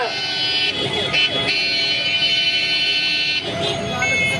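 Loud, sustained car horns blare together in a dense, overlapping chorus at an anti-corruption protest, with a few briefly fading before resuming.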